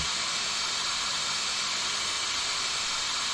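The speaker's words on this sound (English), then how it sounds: "glorious sounds of steam" Steam hisses steadily from a locomotive in Train Simulator 2019, a continuous, fairly faint broadband rush with no other sounds.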